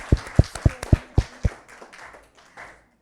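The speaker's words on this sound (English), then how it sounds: "Clap for him!" Children at a scouts gathering clap about six times in a quick, fairly even rhythm, loud and close, then a few faint scattered taps trail off into quiet.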